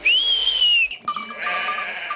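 Goats in an animated Heidi episode bleating nearby: a long, high wavering bleat, a brief pause, then another shrill, harmonic-rich bleat that fades slightly toward the end.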